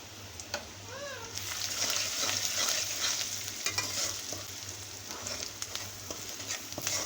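Turmeric, chili powder and salt sizzle in hot oil in a pan for a Bengali prawn paste dish, a steady crackling fry with intermittent stirring scrapes and a few faint background voices.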